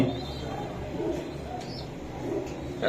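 Pakistani-line high-flying Girbaz pigeons at a pigeon keeper's place in Lalbagh, Old Dhaka, give soft, low coos. The calls are half-buried in a steady murmur of background noise, with no clear speech.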